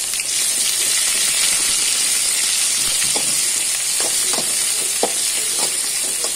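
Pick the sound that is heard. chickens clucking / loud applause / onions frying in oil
onions frying in oil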